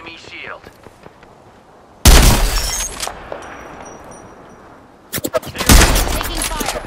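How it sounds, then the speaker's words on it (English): Gunfire and missile launches in the Apex Legends video game, with two loud bursts of shots and blasts, separated by a quieter stretch of low game ambience and faint distant pops. "Fox 3, firing missiles."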